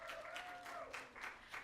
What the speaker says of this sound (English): So could we give her one more round of applause?